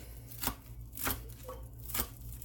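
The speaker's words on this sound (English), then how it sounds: "Almost done with the chopping process." Three sharp knife chops through cabbage on a cutting board, close by and unevenly spaced, over a low steady background hum.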